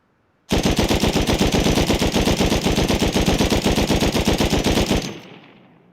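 A rapid automatic weapon fires a sustained burst of about 4.5 seconds in a steady, evenly spaced rhythm during a recoil test in Rust Console, loud and close, then cuts off into a short fading echo.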